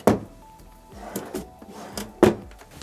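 Drawers in the galley of a 2026 Targa 27.2 outboard boat are slid open and shut close by, giving several sharp wooden thunks and short sliding rumbles spread over a few seconds.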